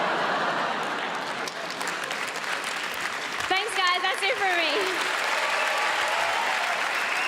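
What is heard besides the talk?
audience applause after comedy set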